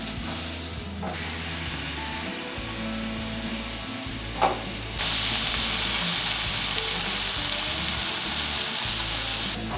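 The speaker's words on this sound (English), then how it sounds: "You want to hear a sizzle, just like that." Pork shoulder sizzling loudly in a hot pan, a steady crackling hiss that surges louder midway, with a brief clatter near the middle.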